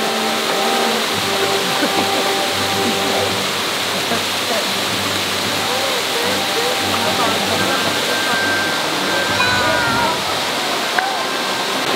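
The seven-tier Erawan Falls in Thailand roars in a steady, loud, unbroken rush of falling water, with faint voices of visitors partly buried beneath it.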